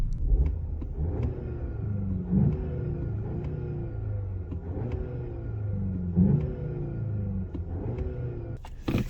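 A 2.0 TSI 280 VW Arteon Shooting Brake engine revs repeatedly in sport mode with artificial engine sound, rising and falling in pitch in several surges, loud and close, with a brief sharp click near the end.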